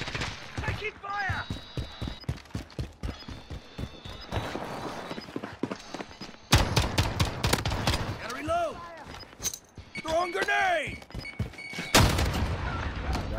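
Gunfire in Call of Duty: Modern Warfare, volleys of shots and bursts mixed with whooshing effects and footsteps, heard under spoken voices and game radio chatter.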